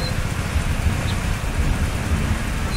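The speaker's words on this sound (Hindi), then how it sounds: "मूसलाधार बारिश शुरू हो गई है" Heavy monsoon rain pours down steadily on a bypass road in Latehar, Jharkhand, in a dense, continuous hiss with no break, loud and close, with no voices.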